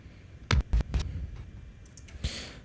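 A reverb-drenched fill kick drum sample, played with its bass restored, lands as a quick cluster of three deep thumps followed by a single heavier hit with a washy tail, all over a faint background.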